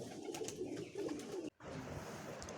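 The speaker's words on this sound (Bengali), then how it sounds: "এইগুলো এই সিজনের আমার তোলা বাচ্চা, যার মধ্যে ম্যাড্রাস পায়রার বাচ্চাও আছে এবং আন্দ্রা লাইনের পায়রার বাচ্চাও আছে" Young pigeons of Madras and Andhra lines coo softly in a loft, a low, muffled, steady cooing that is briefly cut off near the middle.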